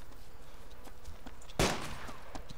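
A single sharp gunshot cracks out in the video game DayZ, loud and sudden against quiet ambient noise, with a few faint soft taps around it.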